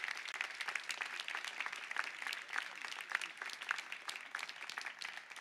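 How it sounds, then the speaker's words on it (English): Audience applause at a Santa Clara County community event, sustained dense clapping from a crowd that holds steady throughout with no talk over it. "let's give them a round of applause again for standing with the Jewish community today"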